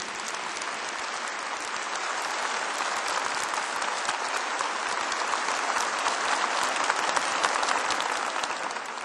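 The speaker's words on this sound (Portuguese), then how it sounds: "Por isso nós temos que dar uma salva de palmas para esse Jesus que nos recebe" An audience at a Catholic healing and deliverance camp claps in sustained, dense applause that stays loud and even throughout, with no voices over it.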